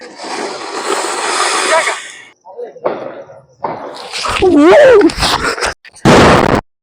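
Several sharp Diwali firecracker bangs burst out one after another in a village, loud and close, with excited voices in between and a whistling rise before the final blast.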